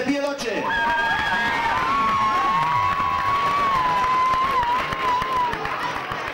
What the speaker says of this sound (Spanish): un fort aplaudiment per a les guanyadores de la categoria anys 2010